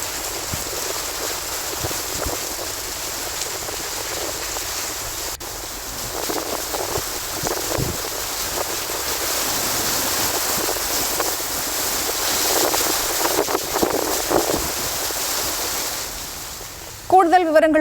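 Vehicles splash through a flooded low-lying street of rain and sewage water after heavy rain, a steady broadband wash of moving water and rain noise throughout, with passing surges and a burst at the end.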